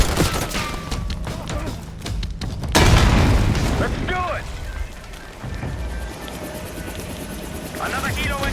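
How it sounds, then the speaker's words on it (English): A helicopter in Black Ops 6 rumbles through a battle scene, its rotor drone under a heavy boom and scattered gunfire, loud and close as the blast hits then settles into a steady thrum. "Another helo incoming."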